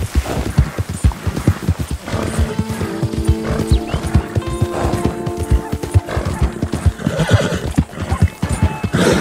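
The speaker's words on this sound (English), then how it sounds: "this horse is better than the one that we had" A horse in the Red Dead Redemption 2 video game gallops off road with rapid, steady hoofbeats, and a loud whinny rises partway through, all close and clear without any speech.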